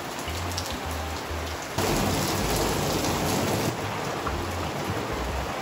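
Steady rain falls outdoors, a dense continuous hiss of drops on surfaces that grows louder partway through, with a low rumbling drone beneath; no one speaks.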